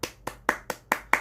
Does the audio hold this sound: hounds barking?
no